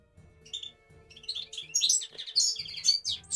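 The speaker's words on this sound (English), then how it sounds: "Oh my god, the bird's so loud." Loud, close birdsong with rapid chirps and tweets building in intensity, heard indoors through a window during a live coding stream, with a faint low hum underneath.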